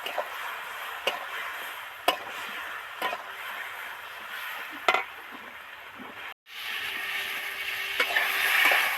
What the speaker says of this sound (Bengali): জিরে ধনে মরিচ গুঁড়ো দিয়ে দিলাম দিয়ে ভালো করে নেড়ে চেড়ে মিশিয়ে দেবো